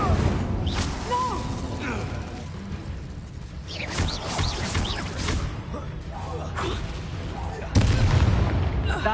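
A fire spell goes off during Hogwarts Legacy combat, with several sharp bursts and booming impacts layered into busy battle effects, and voices speaking throughout.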